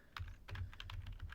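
Quick bursts of keystrokes on a computer keyboard while entering terminal commands, uneven clusters of clicks over about a second, close and clear with no talking.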